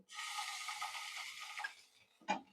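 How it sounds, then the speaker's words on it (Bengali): Ground spices, including cumin, poppy seed paste, chili powder, turmeric, coriander and salt, hit a hot pan for prawn curry with a bright hissing sizzle that fades, followed by a short knock from a utensil. "এখন আমি একসাথে সব মশলা দিয়ে দিব"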